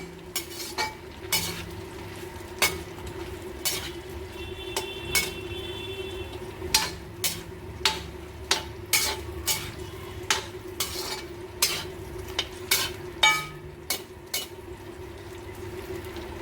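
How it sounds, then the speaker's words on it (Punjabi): Okra frying in a pan with repeated stirring: a steady low sizzle runs throughout, broken by frequent sharp scrapes and clinks of a spatula against the pan in an uneven rhythm, close and clear. "ਆਪਾਂ ਭਿੰਡੀਆਂ ਕਰ ਰਹੇ ਆ ਫਰਾਈ"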